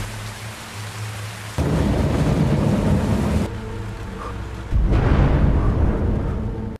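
Heavy rain pours down steadily through a film thunderstorm, with rumbling thunder and a louder surge of downpour near the end, no voices.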